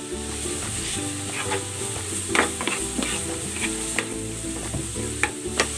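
Onion and carrots fry and sizzle steadily in a pan, stirred now and then with scattered scrapes and clicks of a utensil, close and continuous with no talking.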